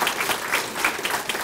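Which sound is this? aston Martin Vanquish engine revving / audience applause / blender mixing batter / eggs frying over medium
audience applause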